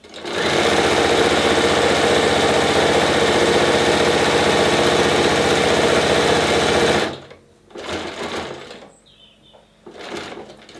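A sewing machine runs steadily for about seven seconds while stitching a face mask, a loud continuous motor whir, then stops; short bursts of handling or rustling follow.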